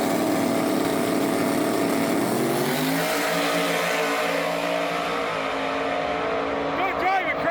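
A race car's engine revs hard as it is driven aggressively, a loud sustained roar whose pitch drops and then climbs again through gear changes, with voices mixed in.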